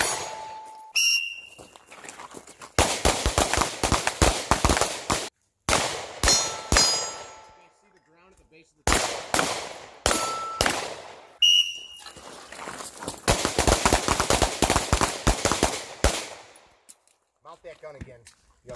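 Handgun shooting practice at an outdoor range: rapid strings of sharp, loud gunshots come in several bursts separated by short pauses, with whistle blasts and a few shouted voices mixed in.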